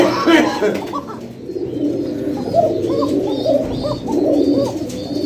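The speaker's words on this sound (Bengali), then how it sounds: "তো দেখলেনই তো কোকা কিরকম ডাকে" Fancy koka pigeons, both cocks and hens, coo loudly and close by in overlapping rolling calls, with a voice briefly audible among them.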